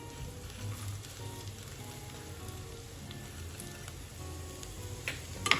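Onion and curry leaves fry in a pan for an idli chutney, giving a faint, steady sizzle with a few soft clicks toward the end.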